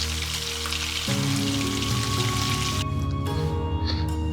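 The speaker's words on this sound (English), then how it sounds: "to an extremely hot pan, add in some oil and blanch your lamb slices" Lamb slices sizzle in oil in an extremely hot pan, a loud, dense crackling hiss that runs unbroken and close throughout, with a faint clink of a utensil near the end.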